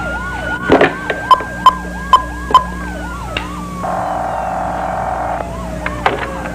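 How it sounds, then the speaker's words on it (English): A wailing siren rises and falls close by, joined by sharp repeated honks and then a steady electronic tone, loud and urgent. "there are sirens and searchlights"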